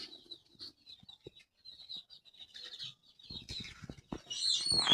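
Egyptian Fayoumi chickens on a poultry farm give scattered soft chirps and clucks, followed by a flurry of wing flapping and scuffling that grows louder toward the end, with no talk.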